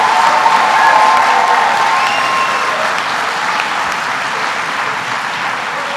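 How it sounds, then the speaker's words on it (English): Sustained applause from a school audience at an elementary school assembly fills the room, a dense, steady clatter of many hands that begins loud and gradually settles slightly lower, with faint cheers mixed in. "Let's give her a big round of applause."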